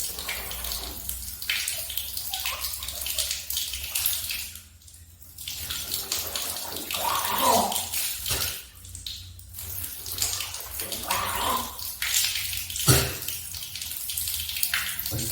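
Tap water runs steadily into a basin while someone rinses the mouth during wudu, a continuous splashing flow with brief dips and small splashes, no talking.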